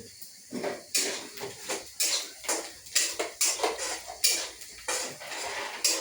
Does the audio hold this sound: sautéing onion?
yes